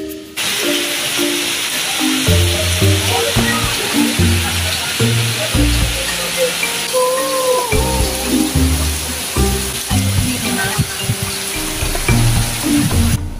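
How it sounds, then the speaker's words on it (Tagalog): Heavy rain pouring steadily with a constant loud hiss at Montealto Kamayan, an outdoor dining place, with music and voices underneath throughout. "At lalong lumakas nga pala yung ulan guys."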